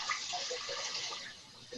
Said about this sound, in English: So you want to get a bowl just with water.